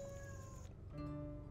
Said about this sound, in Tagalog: At ang lakwatsero naming pusa, umuwi na rin.